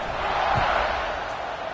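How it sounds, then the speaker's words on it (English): Football stadium crowd at an NCAA Tennessee versus Florida game, a steady broad roar of many voices buzzing after a score, loud and continuous with no single voice standing out. "this crowd is buzzing after that last score"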